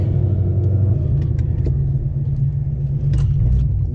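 A car out on a test drive after a repair for weird noises, its steady low engine and road rumble continuous and fairly loud with no talk.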